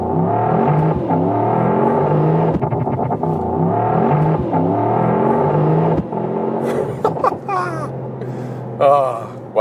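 A Mercedes-AMG GT 63 launching in a race start, its engine a loud, steady droning roar heard from inside the car, with a person talking over the later part.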